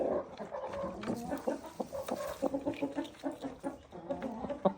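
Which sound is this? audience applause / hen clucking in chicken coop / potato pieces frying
hen clucking in chicken coop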